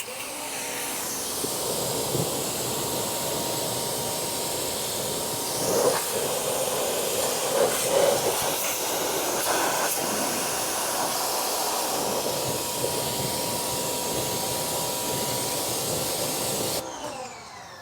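A pressure washer spray rinses acid wheel cleaner off car wheels, giving a steady broad hiss that runs almost unbroken for about fifteen seconds and then cuts off near the end.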